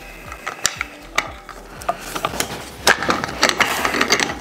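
A wrench loosening the line fitting on a CO2 cannon near its tank, a close series of irregular metallic clicks and ratcheting scrapes, with no talking.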